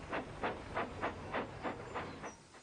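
A steam engine in the Trainz simulator game chuffs in a steady, even rhythm, about four puffs a second, each a soft hissing burst.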